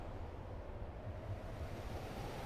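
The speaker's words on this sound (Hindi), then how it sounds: "सागर की लहरों का स्वर" Ocean waves rumble in a continuous low wash of surf with a windy, noisy texture, steady and fairly loud with no talking.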